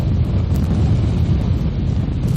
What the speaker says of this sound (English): It's too windy.